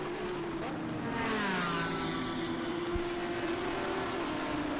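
A 2025 Porsche Cayman GT4 Clubsport race car sweeps past during a Virginia International Raceway race, its engine a steady high-pitched drone that shifts in pitch as it passes at moderate distance, with no talk over it.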